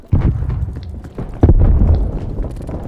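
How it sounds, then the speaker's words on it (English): A grenade explodes in Black Ops Cold War multiplayer gameplay on the Express map: two heavy, close booming blasts about a second apart, each followed by a rumbling tail, with no talk over them. "Throwing grenade."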